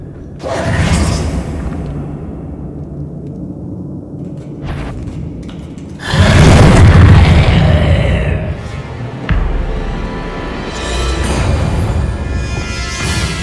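A Confringo spell exploding in the game Hogwarts Legacy, a loud booming blast with rumbling whooshes and following impacts, several bursts over the clip.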